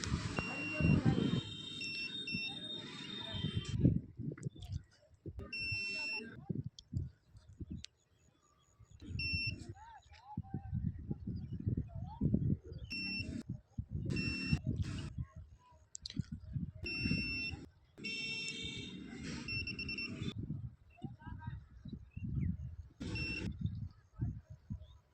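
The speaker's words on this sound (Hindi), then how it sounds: "जहाँ जहाँ हम चेक कर रहे हैं वहाँ बजर बजता होगा आप लोगों के सामने।" A continuity-test buzzer sounds while probes check a short on a Redmi 9A phone board. Repeated short, bright beeps come in bursts of varying length, mixed with someone talking and faint clicking.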